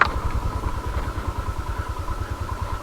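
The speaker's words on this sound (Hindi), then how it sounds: "मैंने बाइक को तो न्यूट्रल में चला रहा हूँ" Motorcycle coasting downhill in neutral on an off-road trail, with a steady low engine idle and a rhythmic clattering pulse running throughout, close and moderately loud.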